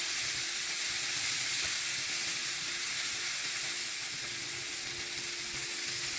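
Cooking wine poured into a hot pan of butter for shrimp scampi, giving a steady loud sizzle and hiss that holds throughout with no voices.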